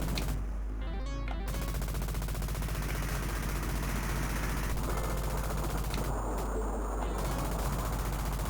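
Machine gun fire in a video game, a dense steady stream of rapid shots held under a busy mix of game effects and background clatter throughout.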